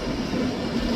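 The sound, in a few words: Avanti West Coast train departing Edinburgh Waverley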